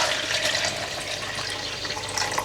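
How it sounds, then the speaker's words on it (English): Cold tap water pours into a jug in a kitchen, a close, steady splashing rush that fills the short moment at an even level. "I've got a jug of cold water and I'm just going to fill that up"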